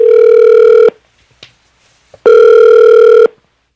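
A telephone ringback tone sounds twice, each a steady one-second buzz separated by a pause of silence.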